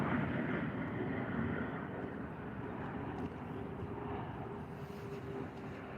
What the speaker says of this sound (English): There's the airplane, folks.